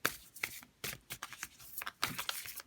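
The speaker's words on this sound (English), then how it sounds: "These are very awkward to shuffle, so I am going to shuffle this way" A deck of awkward, oversized tarot cards is shuffled by hand up close, giving quiet bursts of papery riffling and slapping in an irregular rhythm.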